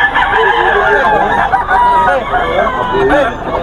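A blue gamecock stag, a young rooster, crows and clucks at close range among a hubbub of background voices and chatter.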